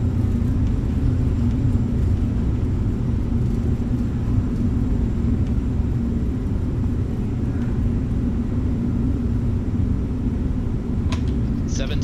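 Airbus A321 landing rollout with reverse thrust roaring steadily and loud, a broad low rumble that holds evenly through the deceleration, with a few brief higher clicks near the end.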